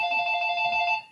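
A phone ringing indoors with a steady electronic trill, loud and continuous, with no talk over it.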